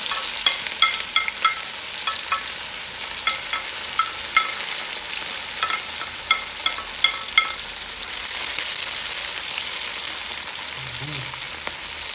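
Onion dropped into hot oil with sizzling cumin seeds and a cassia stick, frying steadily in a pan with scattered pops and stirring clinks, then a brief low thump near the end.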